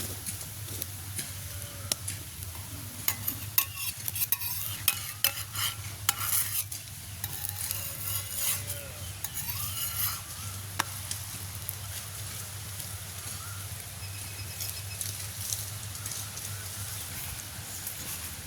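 Dosa batter sizzles softly on a hot griddle in a village kitchen, a low steady frying hiss broken by scraping and clinking of a spatula and utensils, with faint talk now and then.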